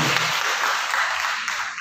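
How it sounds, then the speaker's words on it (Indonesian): Church congregation clapping steadily to welcome a newcomer, a dense, even wash of applause filling the room throughout. "Beri tepuk tangan Bapak Ibu"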